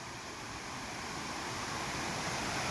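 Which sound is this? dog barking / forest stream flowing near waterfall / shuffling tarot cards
forest stream flowing near waterfall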